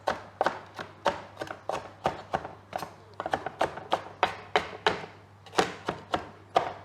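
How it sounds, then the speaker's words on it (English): A knife chops fresh cilantro finely on a cutting board for carne asada, giving a close, steady run of sharp, evenly spaced taps over about seven seconds. "We want to chop this relatively finely because we don't want to have big pieces of cilantro in our steak when we eat it"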